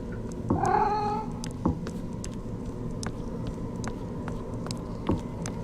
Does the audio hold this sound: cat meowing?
yes